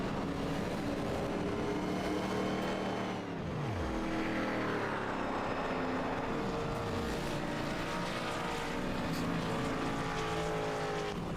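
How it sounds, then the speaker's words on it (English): ARCA Menards stock cars race at Talladega, a steady roar of engines with several cars sweeping past up close, their pitch dropping as each one passes. "That is our 16 cars on the racetrack right now."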